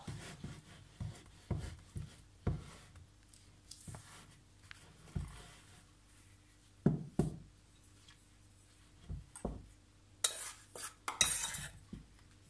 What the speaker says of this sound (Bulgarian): Бъркаме. Все повече и повече става тесто.